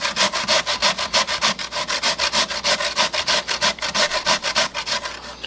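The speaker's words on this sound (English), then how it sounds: "I'm going to go ahead and grate down some potatoes here." Raw potatoes are grated by hand for boxty. Rhythmic scraping strokes, about four to five per second, rasp steadily and close up for several seconds with no talking.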